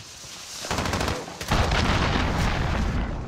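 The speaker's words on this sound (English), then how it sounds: "Allied cruise missile away." An allied cruise missile strikes in Call of Duty: Modern Warfare, bursting into heavy rumbling blasts, first one roar, then a bigger sustained boom with crackling debris.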